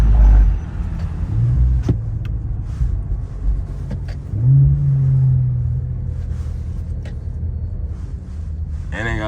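Twin-turbo Infiniti Q50 engine droning steadily from inside the car on a drive, with a couple of rising surges as it accelerates and some brief clicks near the end.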